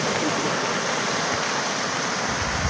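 Creek water rushing steadily through a breach torn open by typhoon flooding in Palawan, a loud continuous turbulent wash with no pauses across the whole stretch.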